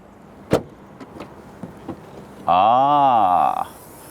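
The boot of an Opel Insignia Grand Sport opens: a few sharp clicks are followed by a loud, steady electric motor whine for about a second before it stops.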